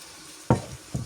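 Minced meat is added to onion and carrot frying in a pan, giving two short sizzling bursts close by, the first louder than the second.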